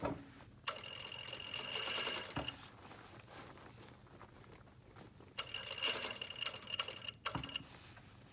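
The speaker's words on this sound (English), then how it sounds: "I'm basically sewing from pin to pin" A sewing machine stitching a heavy leather jacket rattles in two fast, close bursts with a quieter handling pause between them, ending with a soft thump, no speech.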